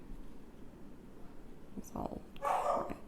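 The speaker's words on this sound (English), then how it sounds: "My dog is downstairs barking." A dog barking downstairs in a house, a few muffled, distant barks heard near the end over low room noise.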